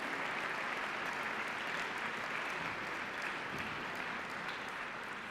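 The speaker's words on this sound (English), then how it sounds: "Nice round of applause for our junior highs," Steady, dense applause from a large audience honoring junior high and middle school students at a national science competition awards ceremony, filling the space evenly without pause.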